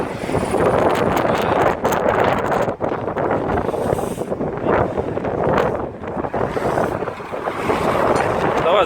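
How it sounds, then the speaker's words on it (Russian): Strong, gusting wind roars and buffets the microphone without a break on a road in Novorossiysk, where a Gazel van's hood was torn off, loud and close throughout. "Ветер сильный."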